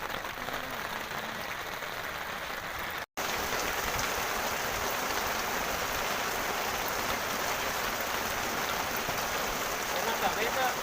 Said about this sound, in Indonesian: Hujan dulur, hujan.